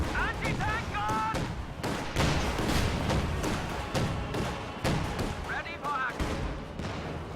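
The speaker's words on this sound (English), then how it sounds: "Field gun putting pressure on this tier 4 structure right here." Heavy booms from a field gun in a Company of Heroes match, with scattered shots and explosions throughout, firing at an enemy tier 4 building while a commentator talks over the battle.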